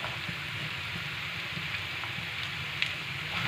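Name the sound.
chopped onions frying with potatoes in a pan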